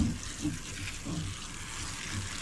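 Water from a garden hose splashes over K&N air filters as they are rinsed, a steady close spray with a few louder bursts and no talk.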